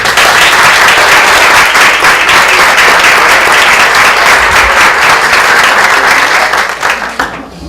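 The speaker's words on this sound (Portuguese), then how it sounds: "Vamos aplaudir as nossas..." Loud, close applause from an audience at a women's community gathering, a dense wash of clapping sustained for several seconds before tapering off near the end.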